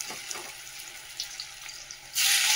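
Cut vegetable pieces drop into hot oil in a wok at home, giving a sudden loud, bright hiss and sizzle that starts near the end, after a stretch of quiet kitchen noise.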